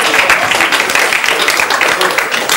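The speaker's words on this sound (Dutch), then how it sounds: "Applaus!" Audience applause in a hall, dense continuous clapping from many hands, loud and sustained for a few seconds with no voices over it.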